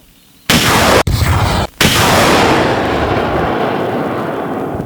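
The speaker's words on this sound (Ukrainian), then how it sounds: "Постріл!" A rocket launcher, a Grad-type multiple rocket system, fires with a sudden loud blast, another boom follows, and a long roaring rumble trails off slowly.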